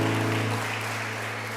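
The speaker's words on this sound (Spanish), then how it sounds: "De un aplauso bien fuerte." A church congregation bursts into a short burst of applause. The clapping is heard over a sustained musical hum and lasts barely more than a second.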